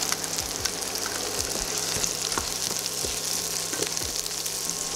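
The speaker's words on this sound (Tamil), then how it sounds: "இப்போ நான் வந்து இந்த ரெட் சில்லிஸ் வந்து ஆட் பண்ணிக்கிறேன்" Kashmiri red chillies fry in hot oil for a mutton pepper masala, giving a steady, loud, close sizzle with crackling pops and faint stirring scrapes throughout, no voices.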